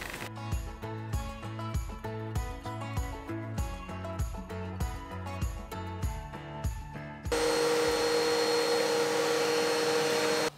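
Vacuum cleaner running while a pet rabbit's living area and litter boxes are cleaned, a steady close drone that changes to a louder, harsher, uninterrupted whine partway through. Rhythmic knocking runs beneath the first part.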